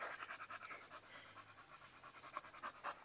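A female pit bull dog pants quietly and rapidly up close, with quick, rhythmic breaths repeating steadily through the short stretch.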